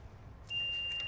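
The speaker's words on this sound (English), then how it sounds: "that alarm is not very promising" Electric car alarm sounding after an old EV battery is reconnected: a sustained high electronic tone starts abruptly partway through and holds steadily over a low background hum, with no talking.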